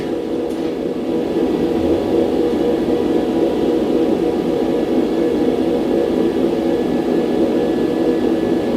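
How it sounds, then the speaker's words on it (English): Welding in a home workshop, a steady loud buzzing hum with constant crackling hiss that starts after a brief quieter moment and holds evenly to the end, no voices. "And my last weld of the day."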